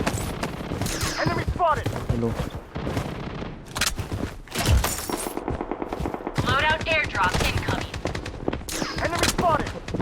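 Loud, rapid machine-gun bursts and scattered shots in the shooter game Blood Strike, one heavier boom near the middle, with players talking over the firing.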